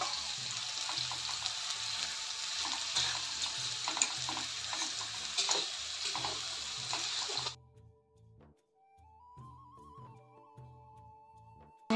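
Meat marinated in yogurt with cumin, ginger and chili paste frying for fried rice, a steady close sizzle with stirring scrapes for about seven seconds, then dropping to near quiet with faint clinks.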